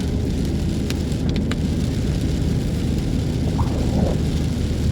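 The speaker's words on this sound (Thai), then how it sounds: "ฝนลงเม็ดปล่อยๆนะครับ" A steady hiss of rain, with heavy drops falling during a drive on a mountain road pass, is heard from inside a car under a constant engine rumble, and a few faint clicks come through.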